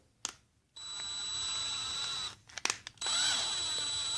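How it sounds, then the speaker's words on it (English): Cordless drill spinning a case trimmer chucked in its jaws, a steady high whine running in short stretches with brief clicks and pauses between, close and fairly quiet. "I want to chuck up our world's finest trimmer in our drill."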